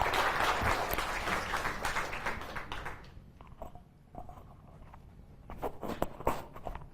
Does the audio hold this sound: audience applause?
yes